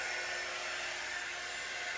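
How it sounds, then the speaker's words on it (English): A small hair dryer blows a steady, even whoosh of air while drying a handmade Christmas cross craft, running continuously and close by with no talking. "This little dryer takes a little longer to dry"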